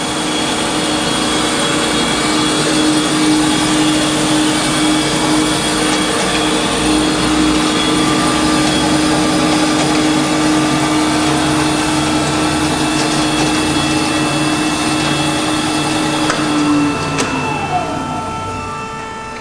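A 1998 Amada HFA500CNC horizontal band saw runs through a cut with its motorized chip conveyor and coolant system, giving a loud, steady mechanical hum and whine that holds for most of the clip, then shifts and winds down near the end.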